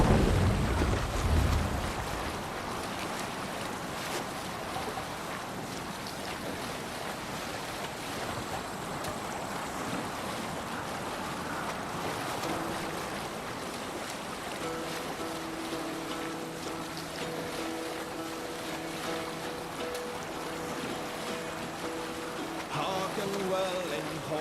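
A Viking ship sails out across ocean waves in Assassin's Creed Valhalla, with a steady wash of surf and wind over the hull, a heavier splash at the start and faint game music and voices beneath.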